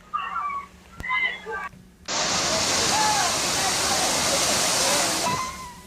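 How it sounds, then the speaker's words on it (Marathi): Navadevi waterfall in Shirpur taluka, Dhule, pours in a loud, steady broadband roar that cuts in sharply partway through, after a stretch of voices talking over quieter background. "हा नवादेवी धबधबा पर्यटकांना आता भुरळ घालतोय"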